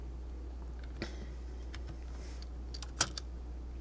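Sparse keystrokes on a computer keyboard used for streaming during a live coding session, a few isolated clicks with one sharper tap, close and quiet against a steady low hum, no talking.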